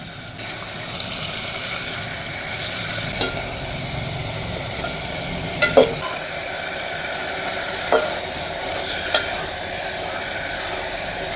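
Jaggery stirred into mango relish in a pan, a continuous wet scraping and sizzling with a few sharp clinks of a spoon against the pan, close and fairly loud, no voices.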